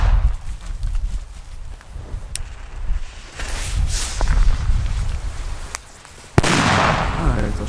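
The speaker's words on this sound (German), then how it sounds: "das sind bis jetzt die heftigsten P1-Böller, die ich je gezündet habe" DumBum P1 firecrackers, in 50g and 110g variants, go off outdoors with several loud, sharp bangs separated by rustling and movement; a final blast hits hard and abruptly, and voices are faintly present.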